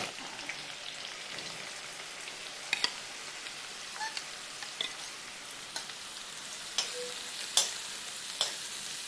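Oil heating in a pan for mutton curry, giving a faint, steady crackle and hiss with scattered sharp pops and spatters, close by.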